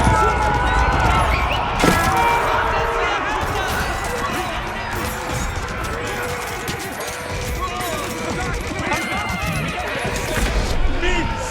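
Cavalry horses charge in an Age of Empires IV medieval battle near Bayeux, with repeated neighs and whinnies over galloping hooves and a constant clash of battle noise that stays loud throughout.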